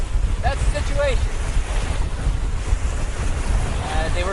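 Strong wind blowing steadily over 40 kilometers per hour across a lake during an overnight canoe trip, with roaring gusts buffeting the microphone and waves washing beneath, loud and continuous throughout.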